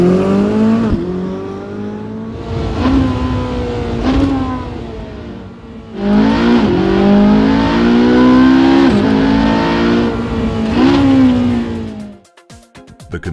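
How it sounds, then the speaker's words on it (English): Ferrari 458 Speciale V8 engine revving hard, with repeated loud rising and falling sweeps of deep, full-bodied exhaust roar close by, then cutting off abruptly near the end. "The position of the tailpipes lends the V8 the full-bodied, low-frequency soundtrack typical of Ferrari's sportiest engines."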